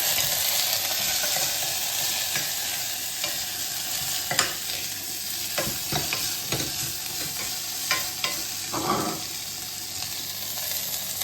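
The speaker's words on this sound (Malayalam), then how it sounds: "സവോള ഇട്ട് കൊടുക്കുകയാണ് ഒന്ന് വഴറ്റി കൊടുക്കാം" Onions sauté in hot oil in a pan, giving a bright, steady sizzle that fills the whole stretch. Intermittent spoon scrapes and soft knocks stand out now and then, close and without talk.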